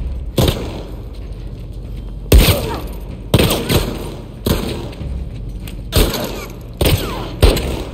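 Heavy gunfire in The Last of Us Part II comes as loud, booming shots at irregular intervals, roughly eight blasts over a constant noisy background of combat.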